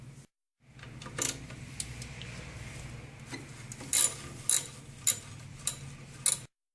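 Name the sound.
10mm wrench removing a nut on a car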